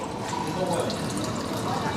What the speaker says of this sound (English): Beer pouring out, nice golden colour.